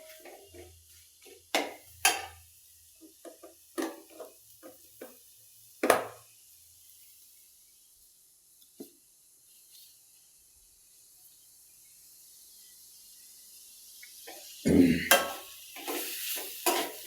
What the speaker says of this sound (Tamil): அது கடால அப்படியே வதங்கட்டும்.